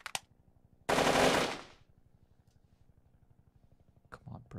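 AK-47 fire in the VR game Hand Simulator: one sharp shot, then a loud half-second burst that rings out over a steady rapid mechanical ticking, followed by a couple of quieter pops near the end.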